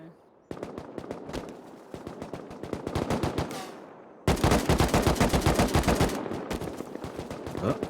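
An AK rifle fires in the online shooter Rust in rapid automatic bursts, a long string of loud cracks, then after a short pause an even louder, denser volley, with some talk underneath.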